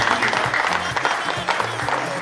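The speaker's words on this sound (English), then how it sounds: "Please can we clap for the chairman of this?" An audience at a new yam festival gathering of an Igbo community in Gävle, Sweden, claps for the chairman, a short burst of crowd clapping mixed with murmuring voices and background music.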